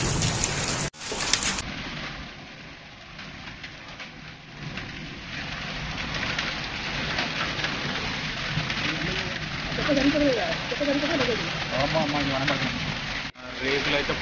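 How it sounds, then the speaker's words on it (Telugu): A hailstorm with heavy rain in Hyderabad, Telangana: a dense, continuous drumming roar of hail and rain pelting surfaces and metal roof sheets, close and loud throughout, with people's voices talking over it in the latter half. "మరి రాళ్ళ వాన అయితే ఫుల్ రాళ్ళు అయితే బాగా పడ్డాయి."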